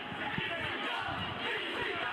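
A crowd chant in a wrestling video game, a roaring arena mass of voices holding a steady, muffled swell, quiet and continuous under the game sound.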